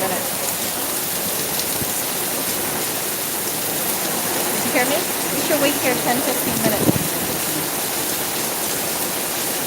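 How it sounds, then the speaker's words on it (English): Heavy downpour in a city storm in Florida, a constant dense hiss of rain on pavement and surfaces, with people talking briefly over it midway. "It's super raining. We should wait here for like 10-15 minutes."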